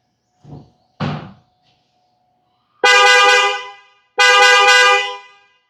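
A Mitsuba Arena 3 horn fitted to a one-year-old Toyota Hilux GRS sounds two loud, close blasts of about a second each, preceded by a couple of soft thumps.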